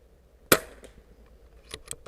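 A Daystate Huntsman Revere .22 PCP air rifle fires once at a target, a sharp close crack followed by fainter clicks and a distant impact-like tap about a second later.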